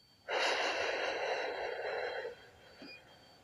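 A long, steady exhale of breath during a breathing exercise, a broad airy rush lasting about two seconds, close and fairly loud with no talking over it.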